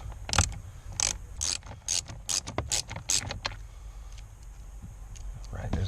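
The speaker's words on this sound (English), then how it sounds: "let's go ahead and take our 7mm socket and a ratchet. I'm going to take these out." Ratchet with a 7mm socket backing out screws on the driver-side temperature blend door actuator of a 2005 Honda Odyssey, a run of quick clicking bursts close by, pausing and resuming.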